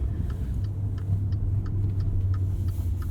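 A 2019 Maserati Levante Trofeo 590 hp SUV drives slowly while turning around, heard from inside as a steady low engine hum and road rumble with faint ticking, no one speaking.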